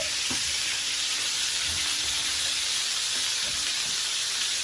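A côte de bœuf sizzles in a hot pan, a constant loud hiss of fat and juices, with a few low knocks and clatters close by and no voices.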